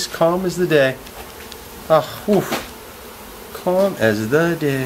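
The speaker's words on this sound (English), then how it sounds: "He's just sweeping those bees," Wild bees buzz in a swarm as their hive is moved and swept by hand, the faint humming running beneath someone talking calmly in short bursts.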